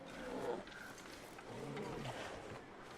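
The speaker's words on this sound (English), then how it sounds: "I'm caught between a bear and a wolf." Low rumbling growls from a bear or wolf in The Long Dark come in a couple of drawn-out swells, faint and somewhat distant, with a voice speaking quietly beneath them.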